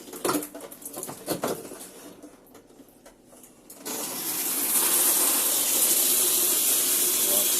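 A tap in a Swift Challenger 530 caravan opens after some faint clicks and knocks, and water gushes out in a loud, steady hissing stream that continues to the end, the onboard pump driving the flow.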